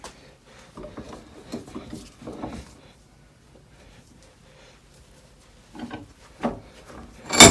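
A part on an MGB GT under restoration being tightened with a socket, giving close, intermittent scraping and rubbing bursts with quiet gaps between them and a sharper clack at the end.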